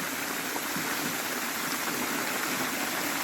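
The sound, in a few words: Big Baryalsky waterfall flowing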